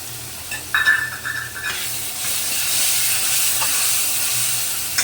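Spice paste of turmeric, Kashmiri chilli powder and cumin mixed with water hits hot oil, giving a brief spatter and then a steady, loud, broad sizzling hiss that holds to the end, with no talk.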